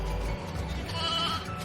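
A sheep bleats in the video game Final Fantasy XIII-2 on an open steppe, a short wavering call set over a low background hum and game ambience.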